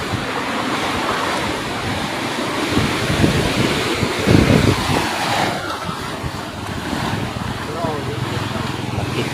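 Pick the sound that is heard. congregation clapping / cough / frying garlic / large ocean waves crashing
large ocean waves crashing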